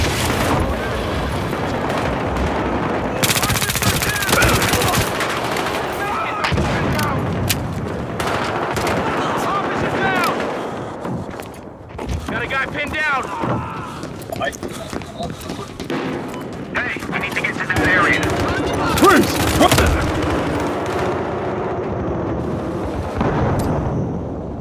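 Battlefield Hardline shootout with MP7 fire: bursts of rapid gunfire, loud sharp shots and booms crackle irregularly over shouted voices, with brief lulls between volleys.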